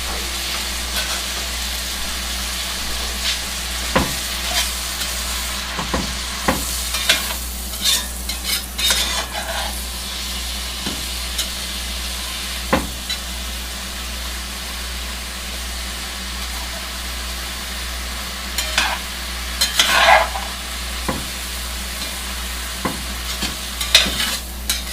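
Onions and mushrooms sizzle steadily in a pan for beef stroganoff, with irregular scrapes and knocks from stirring scattered throughout. The frying hiss stays constant and close, with no talking.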